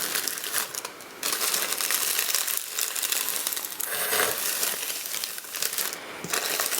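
Close, steady crinkling of thin foil paper, rustling continuously with brief pauses and a few sharper crackles, no voices.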